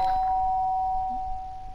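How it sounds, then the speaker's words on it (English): A doorbell in the game Danganronpa 2: Goodbye Despair, a single clear electronic chime that holds its tone steadily before fading, alone with no speech. "The doorbell."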